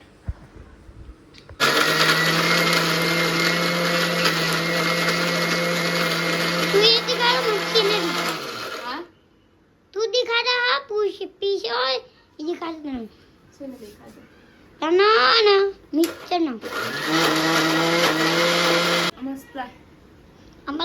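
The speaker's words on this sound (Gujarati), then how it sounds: "મિક્સર ચાલુ કરીને બનાવી દઉં ફટાફટ" A kitchen mixer grinder whirs loudly while blending coconut chutney with peanuts, green chillies and coriander, running in two long steady bursts with short pulses between; a voice and other talk come in during the pauses.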